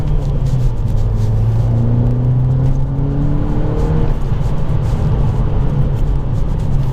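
A tuned 300 PS VW Golf GTI Edition 30 driving the Black Mountain Pass, heard from inside as a loud, steady engine drone with road rumble and a gently rising then falling engine note through the corners.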